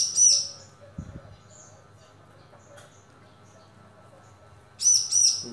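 A wild ciblek (prinia) in a covered cage gives two short bursts of high, thin chirping, one at the start and one at the end, with a long quiet stretch of low room sound between them.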